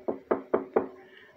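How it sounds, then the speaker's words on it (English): Four sharp, evenly spaced knocks on a door sound close and loud in quick succession, then fade into a brief quiet tail. "You're gonna knock at the door."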